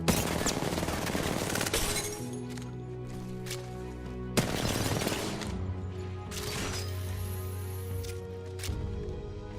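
Sustained gunfire in the video game Apex Legends, with dense automatic bursts and a few sharp louder shots over a busy, loud background of game sound.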